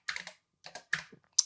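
Keys clack on an Apple II computer keyboard in short clustered bursts of a few strokes each, close and crisp, with brief pauses between groups and no voices.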